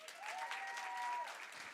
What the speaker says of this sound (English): a big round of applause for our dancers